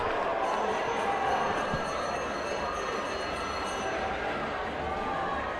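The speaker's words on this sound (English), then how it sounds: "have our whole team cheering her on" A team cheers a runner on at a large-schools indoor track meet. The crowd noise is a steady, dense roar with no breaks, and a voice talks over it.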